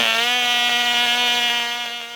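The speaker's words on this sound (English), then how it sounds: "at least the engine fired right up" A classic 049 glow engine on a small model plane screams steadily at a high, buzzy pitch, loud and close throughout and easing slightly near the end.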